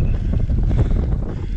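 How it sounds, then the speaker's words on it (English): Strong wind buffets the microphone continuously on a misty mountain summit, a loud, rumbling roar with no voices. "A bit of a windy, misty day today."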